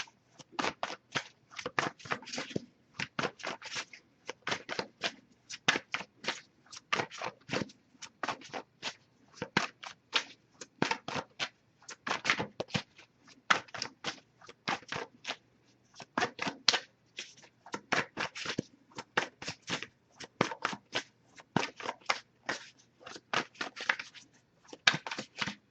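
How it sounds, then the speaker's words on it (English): Rapid, crisp riffling and slapping of tarot cards being shuffled continuously, in repeated bursts with short pauses, close and fairly loud. "if I shuffle for a while and nothing comes up"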